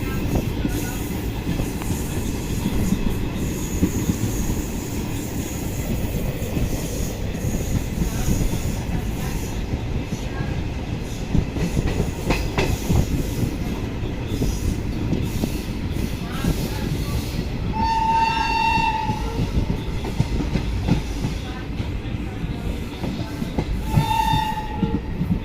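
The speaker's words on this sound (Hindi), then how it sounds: "diamond crossing" An intercity express train rolling over a railway diamond crossing, a loud continuous rumble of wheels and wagons with clacking, brief squeals, and a horn sounding near the end.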